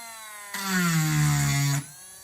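A rotary tool fitted with a small circle burr bit grinds a frog mold in one loud, steady whine lasting just over a second, with no talk around it.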